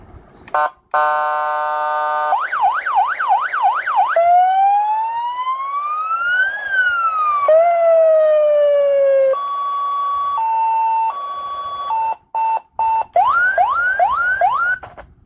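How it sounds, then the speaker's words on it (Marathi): An electronic siren wired up for a bicycle cycling through its modes: rapid warbling yelps, slow rising and falling wails, steady two-tone beeps and quick chirping sweeps, loud and close with brief gaps between patterns. "तर आता आपण सायरन वाजवू, बघू शकता तुम्ही"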